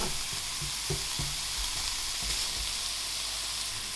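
Carrots stir-fry in a hot pan for glazed pork fried rice, giving a continuous close sizzle with a few knocks and scrapes of a utensil early on. No speech.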